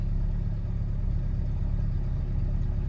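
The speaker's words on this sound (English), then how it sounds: "between the choke and the ever so slight bit of gas we're giving her, she's working her way up to a smooth idle" A 1967 Alfa Romeo Giulia 1300 ti settles into a cold-start idle on choke with a touch of throttle, giving a steady, close, low engine rumble that holds evenly throughout with no speech.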